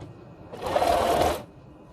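A short single burst of a sewing machine stitching a fabric mask, a close, steady whir of under a second that starts and stops abruptly.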